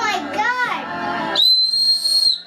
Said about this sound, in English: Whoa, blow that whistle.